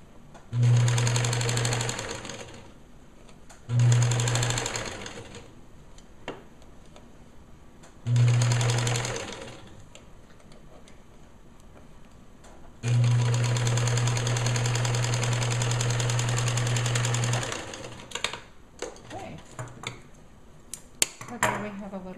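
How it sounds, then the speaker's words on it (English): A sewing machine top-stitching lace onto a bereavement gown's bonnet runs in four loud, close bursts: three short ones, then a longer steady stretch, with a hum carrying through the pauses and small clicks at the end. "flip that lace out, and top stitch in place"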